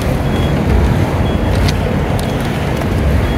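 Cars pass along a busy London street in a dense, continuous rumble of traffic, loud and close, with no voices on top.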